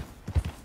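Horse hooves clip-clopping in Red Dead Redemption 2, a few soft, close hoof thuds in a loose rhythm over a quiet background.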